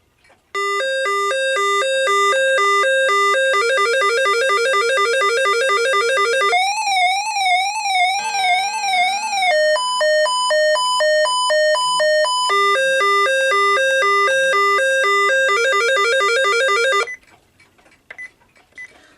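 Weather alert test tone from a Pro 650 radio/scanner: loud, piercing electronic beeping tones that warble and alternate in a rapid repeating pattern for about sixteen seconds, then stop abruptly.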